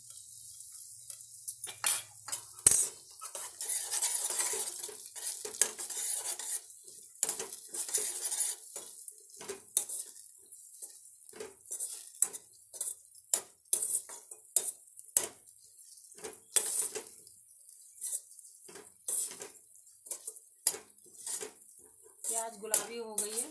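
Scattered clinks and scrapes of a spoon against a pan as onions and curry leaves are stirred for khatta meetha poha, with faint sizzling between the irregular metallic taps.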